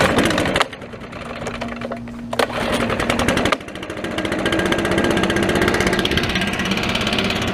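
A 4-mix leaf blower engine runs steadily, buzzing loud and close with a rapid rattling drone, briefly dipping and then revving higher throughout, with no voices.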